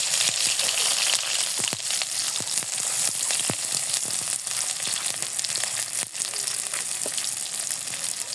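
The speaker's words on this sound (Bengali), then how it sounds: "এখন আমি আবার ছেড়ে দিব হাফ কাপ পেঁয়াজ।" Half a cup of chopped onions frying in hot oil for a tomato rohu fish dish, a dense steady sizzle with scattered crackles and pops, close and continuous.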